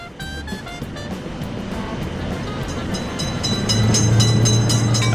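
A video-game train approaches an Indian railroad crossing, its rushing rumble building gradually into a louder drone with rhythmic clacking toward the end.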